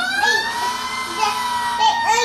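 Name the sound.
fire truck siren from a toy in a sound-guessing game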